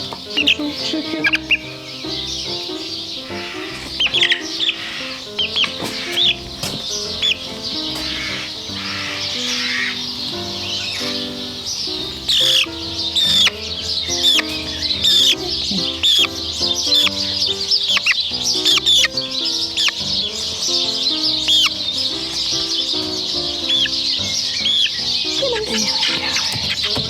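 Young chickens clucking and chirping indoors, a busy continuous chatter of many birds close by with occasional louder calls, while a person speaks now and then in the background.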